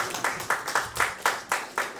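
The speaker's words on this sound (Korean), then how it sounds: "뜨거운 박수로 맞이해 주시기 바랍니다." Steady rhythmic clapping from a crowd welcoming a speaker at a lecture event in Korea, with bursts landing about four times per second and no voices speaking over it.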